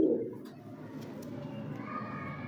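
A Kalu Baloch breed pigeon coos close by with a low, throaty murmur, with faint background sounds of a loft and light chirps.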